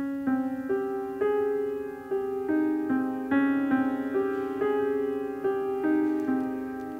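Solo piano playing a syncopated piece, steady repeated chords with a rhythmic off-beat pulse, close and clear with no talking.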